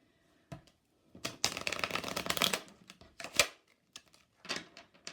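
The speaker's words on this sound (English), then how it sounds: "That was a terrible shuffle." Oracle and Lenormand cards being shuffled by hand, a rough run of quick papery riffles and slaps in a burst, then a few scattered flicks, close and fairly quiet.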